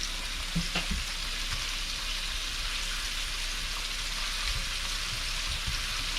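Pork balls fry in a pan with a constant close crackling sizzle, broken by a few soft clinks and bumps as they are flipped with a fork; no one speaks.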